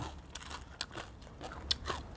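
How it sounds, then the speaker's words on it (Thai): Crispy fried chicken skin is bitten and chewed close up in a series of soft, irregular crunches and crackles over a quiet background. "หนังไก่กรุบกรุบกรอบกรอบค่ะ"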